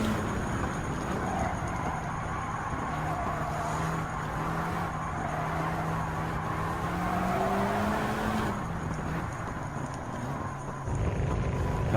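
Mercedes-AMG GT Black Series engine in Gran Turismo 7 during a time trial, a steady droning hum with a rising and falling pitch as gears change on a dirt section, continuous and fairly loud throughout.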